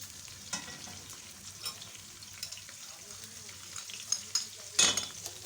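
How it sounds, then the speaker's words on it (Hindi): Green chillies and spices sizzle in a pan, a soft, quiet frying crackle broken by occasional sharper pops and scrapes, growing busier toward the end. "अब इसमें हरी मिर्च डालूंगी, साथ ही इसमें ये मसाले डाल दूंगी"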